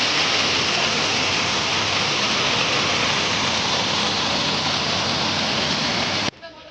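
The Bandardara waterfall pours in a steady, loud, hissing roar that fills the scene without a break, then cuts off abruptly near the end.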